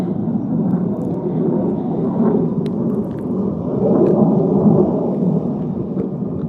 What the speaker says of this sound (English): So these are F-35s that are flying at Luke Air Force Base in Arizona in the United States.